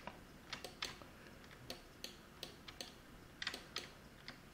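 Quiet, brisk keyboard clicks as shortcuts are tapped on a computer during photo editing in GIMP, irregular bursts of close keystrokes over a soft background hiss.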